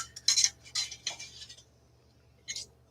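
A spoon scoops twice baked potatoes against a dish in a few quick clinking, scraping strokes, then falls quiet before one last brief clink.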